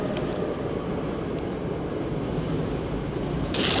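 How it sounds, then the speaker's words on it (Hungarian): A city tram rolls past nearby with a steady low rumble of wheels on rail, swelling slightly toward the end with a brief rise in hiss. "Remélem nem túl hangos, hogy itt megy el a villamos"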